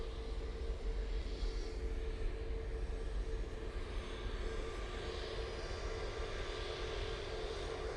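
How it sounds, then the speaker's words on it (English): EasyJet airliner taking off at Manchester Airport: a loud, sustained jet engine roar with a steady tonal whine, rumbling continuously and fairly close, with no talk over it. "Easyjet now coming on in front of us. They'll be off to Alicante."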